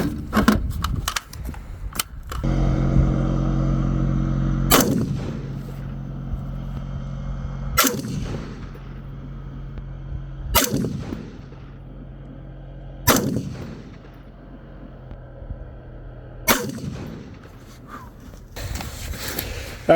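A BCM RECCE14 rifle firing Hornady Frontier 68 grain match hollow-point rounds gives sharp, loud single shots with ringing decay, spaced a few seconds apart outdoors, with some handling noise between shots.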